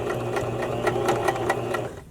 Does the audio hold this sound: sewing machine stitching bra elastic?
yes